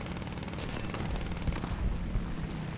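Rapid machine-gun fire from an He-51 biplane in War Thunder, a dense continuous chatter of shots that carries on steadily and then thins toward the end.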